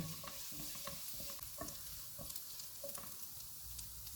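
Faint, steady sizzling of garlic sautéing in oil over low to medium heat, with occasional soft stirring scrapes and no voices.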